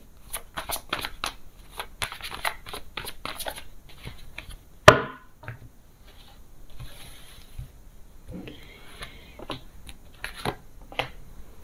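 Tarot cards are shuffled and drawn by hand in a quiet room, making soft, rapid riffling and slapping bursts. One sharp snap comes midway, then gentler sliding and tapping of cards.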